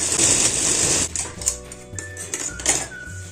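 A sewing machine stitches the sleeves onto a ladies' shirt, running in a fast steady whir that briefly pauses and restarts a few times, close by and alone.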